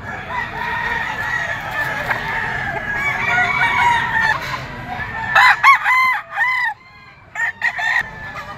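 A young Simstone bloodline rooster (stag) at a Sunday chicken market, with several loud nearby crows rising and breaking off in bursts amid clucking and background farmyard noise.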